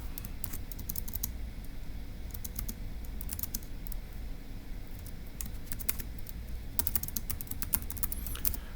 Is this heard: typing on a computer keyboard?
yes